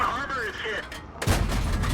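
A 76mm tank gun on a T1 Heavy tank in a World of Tanks-style video game fires one sharp, loud blast near the end, cutting in after a stretch of talking.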